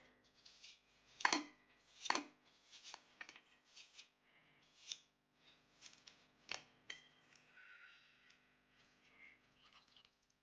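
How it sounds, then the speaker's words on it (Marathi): An onion is finely chopped with a knife, producing quiet, close, irregular taps and crisp cuts, a few louder strikes standing out among softer ones, with no talking. "आता हे कांदा हे आता बारीक चिरून घेणार आहे"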